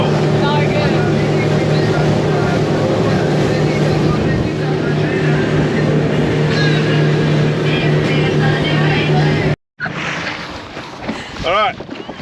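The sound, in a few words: glass bottom boat Coral Explorer motoring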